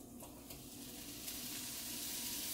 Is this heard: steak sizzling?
yes